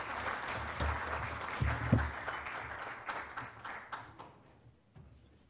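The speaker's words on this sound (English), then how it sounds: "can we have a round of applause for our next speaker" A conference audience at the India Today Global Roundtable gives speaker Ram Madhav a round of applause, a moderate burst of many hands clapping that gradually thins and fades out over several seconds.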